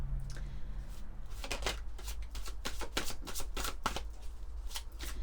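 Oracle cards being shuffled by hand during a French sentimental reading, a steady run of crisp riffling flicks and soft slaps, close and fairly loud, with no talk.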